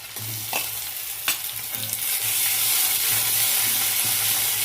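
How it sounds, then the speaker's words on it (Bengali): Ginger paste fries in hot oil in a pan for a catla fish head muri ghonto, with a few sharp clinks of the spoon early on, then a rising close sizzle and repeated scraping strokes of stirring. "এবার দিয়ে দিচ্ছি আদা বাটা।"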